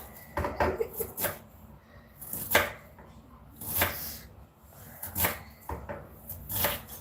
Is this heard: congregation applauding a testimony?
no